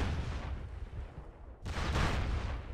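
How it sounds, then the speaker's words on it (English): Grenade explosions in a multiplayer shooter game, heard as a low rumbling boom that fades and is followed by a second louder, broad blast with a rolling tail. "he's throwing nades"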